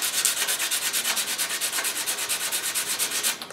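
A motor scooter part sanded by hand with coarse sandpaper before wet sanding, a loud, close, rhythmic scraping of quick even back-and-forth strokes, alone with no talking.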